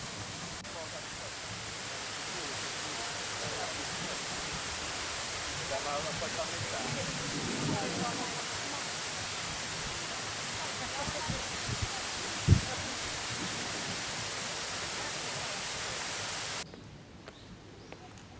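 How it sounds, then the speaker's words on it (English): A steady, broadband roar of a waterfall in Jeju in spring fills the clip continuously, then drops off abruptly near the end. "Yep, and this is the waterfall."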